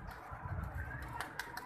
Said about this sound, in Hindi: ये उतरे कबूतर, ये ओहो फिर उड़ गए ऊपर।